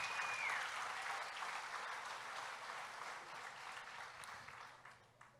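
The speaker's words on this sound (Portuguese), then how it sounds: "Você pode aplaudir Jesus." A church congregation applauds during a sermon, a dense, steady wash of clapping from many hands that holds loud and even for several seconds, then thins slightly toward the end.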